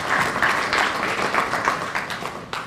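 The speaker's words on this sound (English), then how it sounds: "Another round of applause." Warm, continuous applause from an audience at an election observer mission statement, a steady close patter of many hands clapping without pause.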